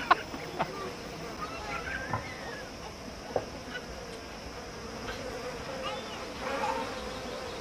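Domestic honeybees buzzing in Nepal, a faint scattered drone with individual bees passing close, a few sharp knocks, and distant fowl and background voices faintly underneath.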